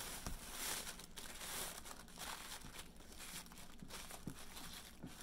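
Plastic bag crinkling as plarn is crocheted into a basket, faint soft rustles and crackles with scattered small clicks, close and quiet with no talking.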